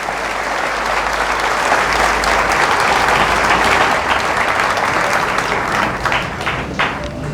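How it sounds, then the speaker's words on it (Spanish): A church congregation applauds loudly and steadily at Mass for several seconds, a dense, continuous wash of clapping from many hands that fades slightly near the end. "Fuertes aplausos a la palabra de nuestro Dios."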